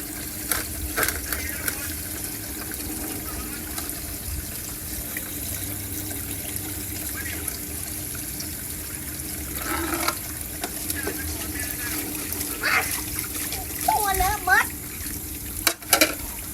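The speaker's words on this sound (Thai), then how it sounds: "กินเสร็จก็รู้จักล้างถ้วยล้างจาน" Bowls and dishes being washed under running water, with a steady stream and sink splashing broken by clinks and scrapes of crockery, with a few louder knocks near the end.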